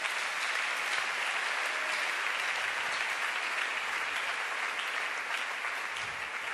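Church congregation applauding, a dense, sustained wash of clapping that stays steady and loud for several seconds with no voices standing out.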